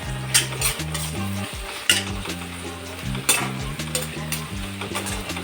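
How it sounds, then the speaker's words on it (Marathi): Green chillies with crushed peanuts being sautéed and stirred in a pan for dahi mirchi, a soft sizzle under repeated scraping strokes with a spoon and periodic clinks against the pan, close by, with background music. "आता एक दोन मिनटं असे कुटामध्ये जरा परतून घेते"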